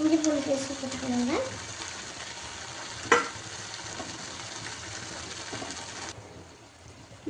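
Tomatoes sautéing in a pan for South Indian egg curry (muttai kulambu), giving a steady close sizzle and crackle with a couple of brief utensil scrapes from stirring, and no talking.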